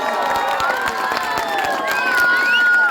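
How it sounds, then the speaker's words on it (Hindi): Audience at a village bhajan singing competition prize ceremony clapping and cheering, sharp individual claps over a crowd of voices and children shouting, fairly loud and continuous. "जोरदार ताली बजाएं आप।"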